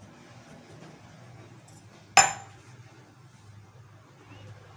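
A drinking glass pressed down through rolled dough for veg momos, cutting out rounds; one sharp clink of the glass rim against the board rises over a low, steady room hum, then fades quickly.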